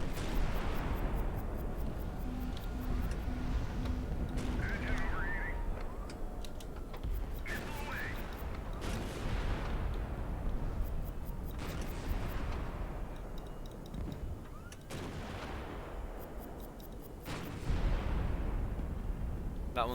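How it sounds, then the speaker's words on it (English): Missiles launch in the naval strategy video game High Fleet as a series of heavy booming blasts, spaced several seconds apart over a constant low rumble, with faint electronic beeps between the shots. "Let's fire those missiles. Fire those missiles again."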